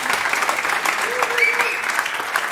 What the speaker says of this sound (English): yeah, you can applaud, it's right.